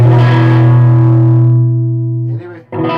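A Victory Sheriff guitar amp rings out with a distorted, sustained chord that fades after about two seconds, followed by a short burst of fresh playing.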